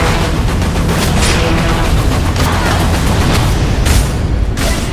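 Dense, sustained gunfire and booming blasts from a shooter battle in the video game Evolve, continuous and loud throughout with no pauses.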